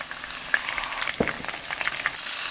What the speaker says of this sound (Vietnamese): Tiếp theo mình chiên sơ cá để khử mùi, giúp cá được thơm hơn khi nấu cháo.